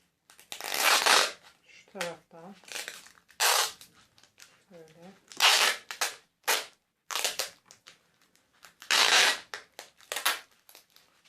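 Adhesive tape is pulled from the roll and wrapped around a set of bridegroom's coffee cups at home, with sharp ripping bursts in uneven rhythm and short pauses, close and loud, with people talking briefly between.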